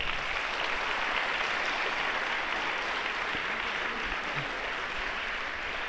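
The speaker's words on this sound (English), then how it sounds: "One more round of applause for Riley, if we could." Crowd applause in a gym at a boys' high school basketball game, a continuous even patter of many hands clapping for the full stretch at moderate distance.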